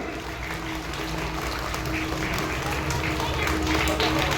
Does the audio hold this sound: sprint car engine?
no